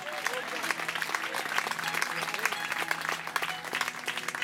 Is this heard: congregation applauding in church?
yes